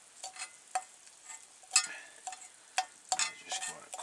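Browned ground meat being crumbled and stirred in a pan, with irregular scraping taps and soft sizzling in quiet bursts, fairly close and without talk.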